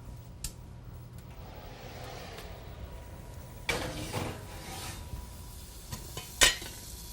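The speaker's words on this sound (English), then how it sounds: "that little sizzle is an indication that our soup is just about ready" Soup sizzling in a pot on the stove, a soft, steady hiss with a few sharper crackling bursts and light clinks near the end, close by with no talking.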